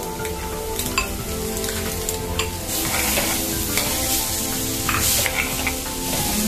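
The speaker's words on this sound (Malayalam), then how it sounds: "നമുക്കിതിലേക്ക് ചോപ്പ് ചെയ്ത ബീറ്റ്റൂട്ട് ആഡ് ചെയ്ത് കൊടുക്കാം." Chopped beetroot fries in a pan for a thoran, sizzling continuously while a spoon scrapes and stirs it at an even, repeated pace.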